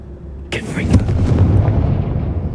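A Confringo spell detonates in Hogwarts Legacy, a sudden close fiery blast with a crackling burst followed by a deep rumbling boom that lingers and slowly fades.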